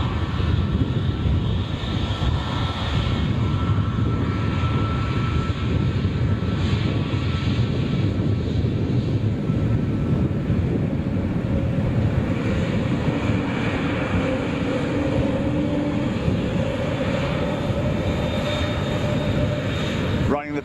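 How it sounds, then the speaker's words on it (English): Pratt & Whitney jet engines on a Virgin 747 airliner at Manchester Airport give a loud, continuous roar with a high whine running throughout, steady from start to finish. "Pratt & Whitney engines, which is why you're hearing that howl"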